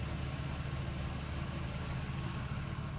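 A Nissan Altima's engine runs at a steady idle, a continuous loud low rumble with no change in pitch or revving across the few seconds, and no voices.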